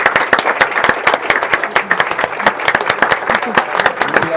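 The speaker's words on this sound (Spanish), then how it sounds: "Un aplauso para ustedes." Audience members at a seminar on criminal procedure in Buenos Aires province clap loudly and rapidly for the speakers, a close, vigorous burst of applause with faint crowd murmur mixed in.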